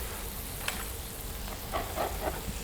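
Hot handmade meatballs sizzle in a pan, a faint, steady crackling fry with a few soft pops and stirring scrapes, no voices.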